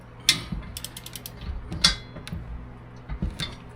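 A bolt on a bike rack being tightened with a ratchet wrench, close-up bursts of clicking with a few sharper metallic clacks, irregular and without talk.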